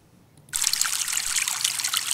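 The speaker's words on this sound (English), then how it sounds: "We're listening to glacial melt runoff." Glacial melt runoff water trickling and rushing in a steady, close, broadband flow that starts abruptly after a brief quiet moment and continues unbroken.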